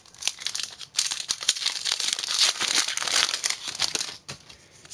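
Pokémon booster pack foil wrappers being torn open and crinkled, a close, continuous rustle and crackle with brief pauses between packs and no talking.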